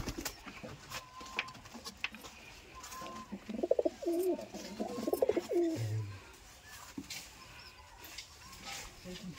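Giribaz pigeons cooing in a loft, a cluster of soft low coos in the middle of the clip, with scattered chirps, rustling and a voice talking nearby.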